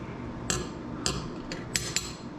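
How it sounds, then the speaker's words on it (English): Pliers work a cut length of screw or metal rod back and forth until it snaps; four or five sharp metallic clicks ring out at irregular intervals over a low background hum. "take these pliers and just bend it back and forth a few times, and it'll break off"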